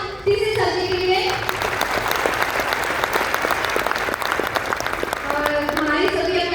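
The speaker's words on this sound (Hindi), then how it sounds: "तो एक बार जोरदार तालियां डीसी सर जी के लिए।" Loud, dense applause from a large crowd at an honoring ceremony, sustained throughout, with a voice talking over it at the start and again near the end.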